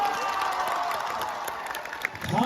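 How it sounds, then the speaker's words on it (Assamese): A crowd at a political gathering claps loudly in a dense, sustained patter, with cheering and voices mixed in and a swell of noise at the end. "এটা হাত চাপৰি জোৰেৰে"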